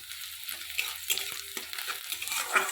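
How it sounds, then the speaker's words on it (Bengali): Onions fry in a pan with a soft, steady sizzle and light stirring scrapes, close and fairly quiet, no voices. "পেঁয়াজটা আমার ভাজা ভাজা হয়ে এসেছে"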